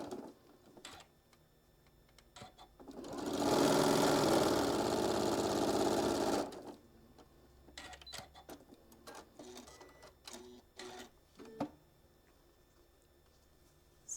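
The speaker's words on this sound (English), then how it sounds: "I'm just going to line it up and sew 1/4 inch all the way down" A sewing machine runs one steady burst of about three seconds, stitching a quarter-inch seam on quilt fabric, with quieter handling clicks and rustles of the fabric before and after.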